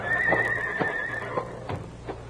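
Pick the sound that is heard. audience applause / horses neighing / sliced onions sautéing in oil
horses neighing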